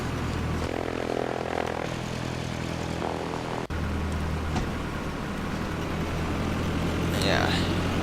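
A simulated propeller aircraft in Flight Simulator X powers up for takeoff, with a steady droning engine tone that holds and builds, one brief cut midway, while someone talks over it.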